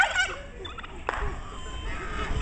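Turkeys gobbling at close range, a brief rattling gobble call that stands out over a low rumble of background noise.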